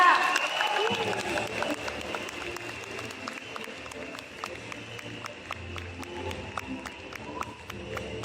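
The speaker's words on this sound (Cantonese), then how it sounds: "掌聲不斷" Audience applause after a speech at a leadership training conference in Kuala Lumpur, sustained dense clapping from a crowd following a brief voice at the start.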